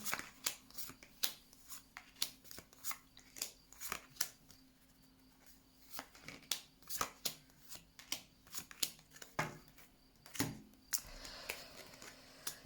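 Tarot cards are shuffled up close for a reading, a quick run of crisp riffling slaps and flutters in bursts, fairly quiet, with brief pauses and no voice.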